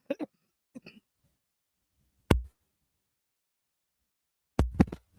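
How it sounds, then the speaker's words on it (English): Two isolated coughs from a person, sharp and close, separated by long stretches of near silence, the second a short double burst; brief vocal murmurs come before them. "I try to mute so you don't hear me coughing."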